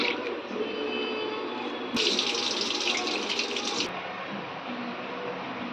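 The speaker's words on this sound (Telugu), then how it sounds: "ఇవి శుభ్రంగా కడిగి వాటర్ వేసి పెట్టుకుంటా" Tap water runs steadily into a bowl while tamarind seeds and urad dal are washed, a continuous close splashing stream that briefly grows brighter and louder in the middle.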